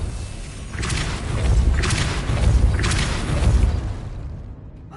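Repeated Depulso spell casts in Hogwarts Legacy produce three forceful whooshing blasts, each with a low rumbling thud underneath, spaced about a second apart before fading out.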